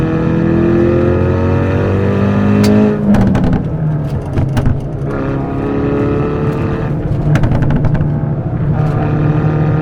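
Hyundai Veloster N engine revving hard on a road, loud rising whine through the gears with a shift break partway, followed by bursts of exhaust crackle, heard from inside with windows up.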